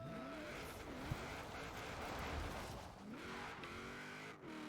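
Engine revving with tire squeal as a car corners and skids in Forza Horizon 4, the motor note rising and falling through the turn with a brief screech of rubber, loud and continuous with no talking.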